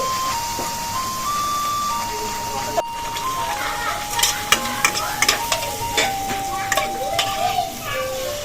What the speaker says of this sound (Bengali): তেলটা এখনো ভালোভাবে গরম হয়নি তার জন্য তারপরে এগুলো হয়তো ফুলবে তো আমি এবার দুটো করে ছেড়ে দিয়েছি